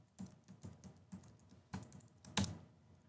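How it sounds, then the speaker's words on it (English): Password keys tapped on a ThinkPad X1 Carbon laptop keyboard, a quiet, close series of about ten uneven clicks with one firmer keystroke near the end, no voices. "I'll type in my password."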